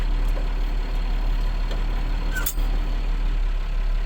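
Massey Ferguson 3085 tractor engine idling in neutral, heard from inside the cab as a steady, loud low rumble with a brief click partway through.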